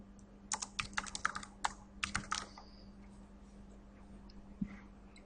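Quick, close clicking keystrokes on a computer keyboard come in two short bursts, then a single late tap over a faint steady hum.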